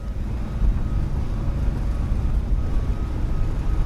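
Steady low rumble of an iFly Boeing 737-8 MAX airliner's engines in Microsoft Flight Simulator, a continuous close drone with faint whine above it, no voices.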